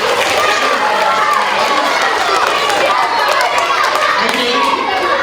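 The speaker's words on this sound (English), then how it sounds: "How about a nice round of applause for my precious friend?" A school audience at JFK claps and cheers for a volunteer during a police officer's presentation, a dense, loud, continuous wash of applause with children's voices mixed in.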